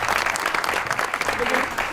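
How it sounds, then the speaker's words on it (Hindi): A studio audience at a comedy talk show applauds with sustained, dense clapping throughout, with some voices faintly mixed in beneath it. "पहले तो इस बात पे ताली होनी चाहिए"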